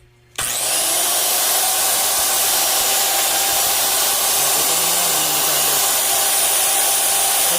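A repaired Makita LS1040 miter saw motor starts up and runs alone, a loud, steady high-pitched whine with rushing air that holds constant after a sudden switch-on.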